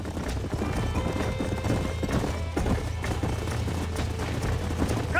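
Horses in the Western video game Red Dead Redemption, hooves clip-clopping in a steady running rhythm with whinnies and neighs, dense and continuous over a background of game effects and music.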